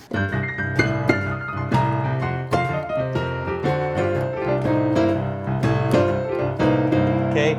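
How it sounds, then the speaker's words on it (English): Piano rattles off a quick bluesy run of rapid notes over sustained chords, bright and full, played solo. "Here's an example of a blues run."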